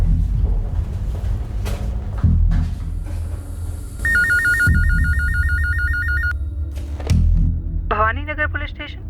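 A telephone rings in a police station, a clear electronic trilling burst heard mid-clip over background music and people talking.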